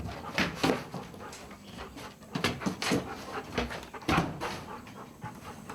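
A dog plays with its owner at a FARC guerrilla camp in the Colombian jungle, panting in quick, ragged bursts with a few soft whimpers. It sounds close and continuous throughout.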